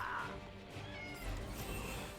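A cat meows in the Final Fantasy XV video game, one soft drawn-out mew heard fairly faintly over low background game ambience.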